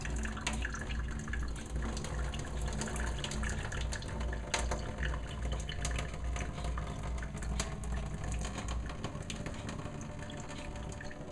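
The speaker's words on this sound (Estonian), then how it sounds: "Lihtsalt see vesi välja ajada siis." Water drains from a pot of cooked buckwheat with no lid, heard as a steady close trickle and splashing with scattered drips over about eleven seconds, no talking.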